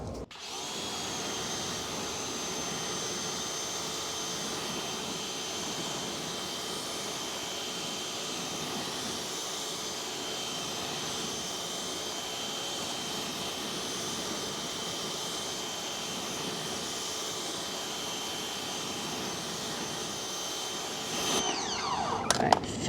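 A pressure washer sprays water over a Subaru WRX at a car wash, a steady loud hissing roar with a whining motor tone, running continuously before a brief clatter at the end.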